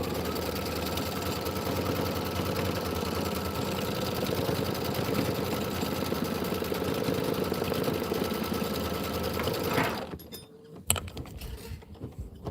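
A sewing machine runs continuously for about ten seconds while quilting a Kimberbell snowman pillow, a steady close mechanical whir, then stops, followed by a few faint clicks and handling noises.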